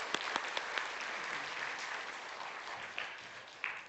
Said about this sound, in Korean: 우리 한 번 더 하나님께 영광의 박수 보겠습니다